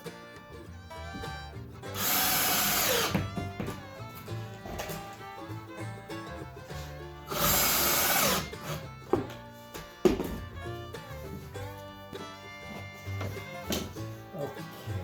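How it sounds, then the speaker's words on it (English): A power drill drives screws into a wooden floor support while patching a hardwood floor, with two loud whirring bursts of about a second each over quiet background music. "Put a couple screws in there so it doesn't rattle around."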